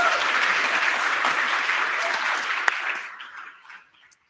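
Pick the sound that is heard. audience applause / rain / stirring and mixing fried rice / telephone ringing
audience applause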